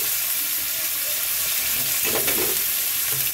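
Tomatoes drop into a hot frying pan with black cumin in oil for a vegetarian banana-flower dish, giving a steady broadband sizzle that swells briefly with a louder burst of spitting, no voices over it.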